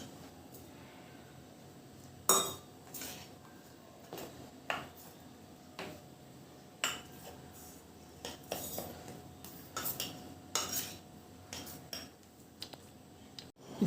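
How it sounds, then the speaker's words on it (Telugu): A utensil stirs batter with water in a kitchen bowl, giving irregular clinks and scrapes of metal against the bowl over a quiet background, with no talk. "ఇది ఇప్పుడు వాటర్తో కలుపుకుందాము."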